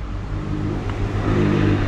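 Truck driving along a road in Oranjestad, Aruba, its engine a steady mid-range rumble that swells slightly as it draws closer, heard alone without talk.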